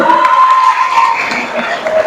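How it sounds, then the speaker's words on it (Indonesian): Schoolchildren applaud and cheer at an Isra Mi'raj school event, a short loud burst of clapping and shouting voices filling the room. "Tepuk tangan dulu."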